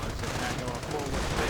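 Rapid rifle gunfire from BAR automatic rifles in a WWII strategy video game, a dense continuous clatter of shots layered with other battle noise throughout.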